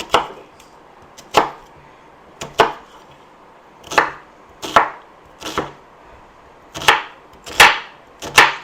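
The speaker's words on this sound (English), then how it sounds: "Just going to cut this onion up." A knife chops an onion on a cutting board in a home kitchen, about a dozen sharp, separate thunks at an uneven pace, close and clear against a quiet room with no voices.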